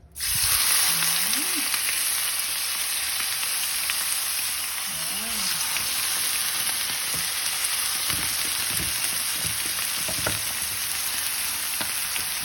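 Chicken hitting a hot pan with a little oil bursts into a loud, continuous hiss of frying that holds steady throughout, with faint scrapes and a few low murmuring voices underneath.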